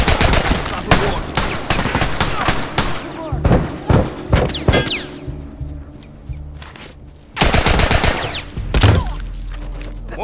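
Assault rifle fire crackles through a match of The Last of Us Remastered in short and longer bursts, some sharp and close, others duller, with shouting players' voices between the shots.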